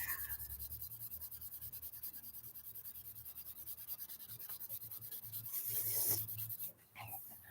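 Hand sanding of a scratched car headlight lens: a close, rhythmic back-and-forth rubbing rasp repeating steadily, swelling louder near the end before stopping, with no talk.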